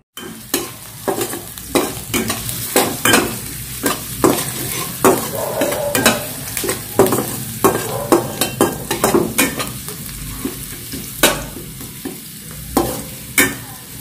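Spaghetti sauce and meat frying in a pan under steady close stirring, a constant sizzle broken by rhythmic scraping and clacking strokes of the spoon throughout.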